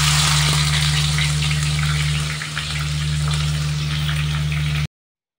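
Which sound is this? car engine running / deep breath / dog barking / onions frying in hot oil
onions frying in hot oil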